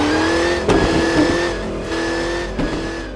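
Engine of a 1:43 scale DR!FT racing car in a racing and drift simulation, a steady close synthetic engine drone with brief revving surges and bursts, alone without voices.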